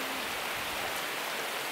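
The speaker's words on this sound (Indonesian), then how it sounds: "Hujannya lumayan deras guys." Heavy rain pours steadily during a mountain hike at Puthuk Siwur in Pacet, Mojokerto, East Java, an even, hissing wash of drops that stays constant and fairly faint throughout, with no voices.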